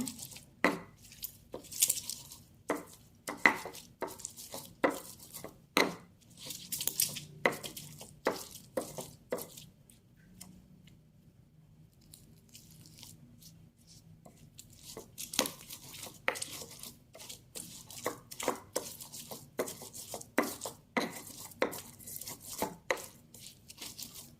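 Spices ground in a stone ulekan mortar for rawon: a run of sharp, close knocking and scraping strikes in an irregular rhythm, pausing briefly midway before resuming, with no talking.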